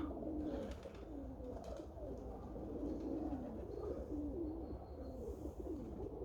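Budapest tumbler pigeons coo softly and repeatedly in a loft, the low, rolling calls overlapping in a continuous murmur against faint background noise.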